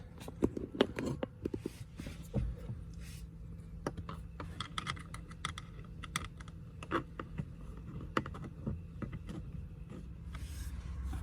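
A small screwdriver works a T20 Torx screw on a Tesla Model Y/Model 3 cabin air filter cover, giving close, scattered light clicks and ticks over a quiet background hum.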